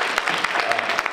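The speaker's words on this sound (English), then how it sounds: "Let's give Reverend Moore another round of applause" At a women entrepreneurs' conference, the audience breaks into a short, close burst of clapping, quick overlapping hand claps lasting about a second.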